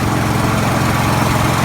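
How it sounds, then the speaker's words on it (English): Small lawnmower engine running steadily just after being jump started from a dead battery, a loud continuous buzzing drone close by with no talk. "jump started the lawnmower within 2 seconds"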